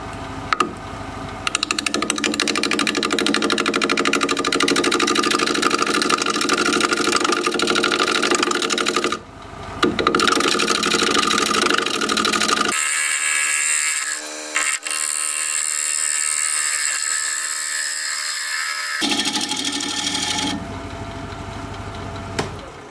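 Wood lathe turning and thinning a burl apple wood piece, with a loud continuous motor hum and scraping tool contact, briefly dipping and changing tone midway, then resuming.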